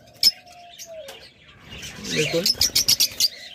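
A pair of red-faced Fischer's lovebirds gives a run of sharp, regular chirps that grows louder toward the end, with a few earlier calls and someone talking over them.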